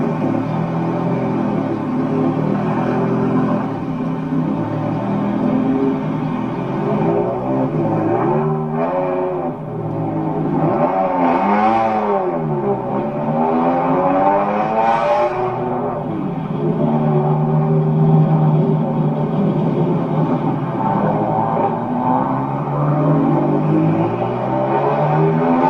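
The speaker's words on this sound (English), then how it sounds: "Play Flossie Carter BMW Cruise on YouTube." A BMW played back from an online video cruises and revs, its engine note rising and falling in smooth sweeps over a constant hum, slightly distant and boxy as if through a speaker, with no talk.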